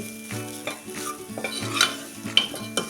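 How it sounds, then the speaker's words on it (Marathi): A spoon stirs spiced masala frying in oil in a kadhai over a low gas flame for a wedding-style brinjal and potato curry, with repeated scraping strokes against the pan over a continuous soft sizzle. "हा मसाला चांगला तेल सुटेपर्यंत चांगला परतून घ्या"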